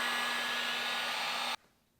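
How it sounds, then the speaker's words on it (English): Steady, loud blowing whir of a heat gun warming a PVC pipe for a homemade bowfishing bow, with a faint constant hum, cutting off abruptly near the end and leaving near silence. "Two heat guns would be ideal."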